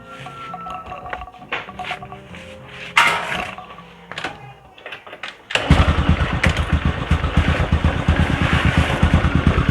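A Honda Supra X 125 motorcycle, with its battery disconnected, clicks and sputters through a few start attempts, then catches and settles into a steady, close, pulsing idle.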